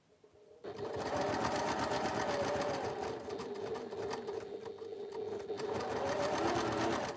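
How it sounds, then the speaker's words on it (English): A sewing machine stitches fabric in a fast, steady mechanical chatter that starts abruptly after a brief quiet moment and runs continuously, with a slight dip and pickup midway as stitching goes forward and back. "and then I do a reverse stitch, and then I do another one."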